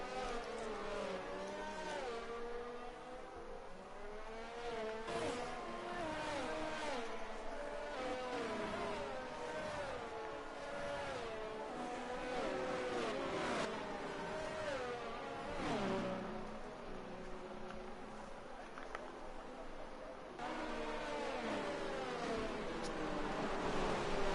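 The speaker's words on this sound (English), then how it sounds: "so that'll be the safety car pulling away now" Safety car pulling away at Abu Dhabi in a racing video game: buzzing engine notes rise and fall as cars rev and shift. It stays continuous and moderately loud, with no voices.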